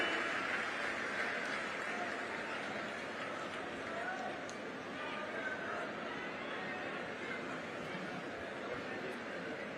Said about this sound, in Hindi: सभी की जोरदार तालियां।